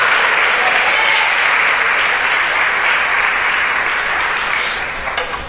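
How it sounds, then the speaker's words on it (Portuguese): Congregation clapping loudly in a church service, a dense, sustained burst of many hands that carries on strongly for several seconds before thinning out near the end. "Dê um aplauso bem forte ao Senhor Jesus"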